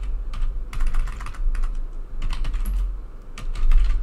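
A computer keyboard clatters under steady typing, with rapid bursts of close key clicks and brief pauses, with no speech.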